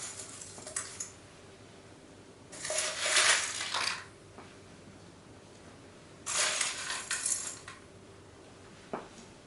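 Metal clamps are fastened onto a quilt frame to hold the quilt and batting, giving two close bursts of clinking, rattling metal separated by quiet, with a faint click near the end and no talk.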